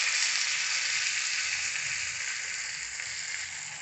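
A fish wrapped in banana leaf fries in a covered pan over a medium flame, giving a steady, moderate sizzle that fades slightly toward the end, with no voices.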